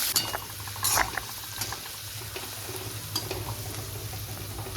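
Onions sautéing in a pan for banana-flower kofta kuzhambu, with curry leaves added, give a low steady fry with soft stirring scrapes and a brief louder rustle near the start, fairly quiet throughout.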